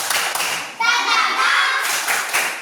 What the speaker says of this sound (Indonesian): Bekasi ice breaking, tepuk semangat.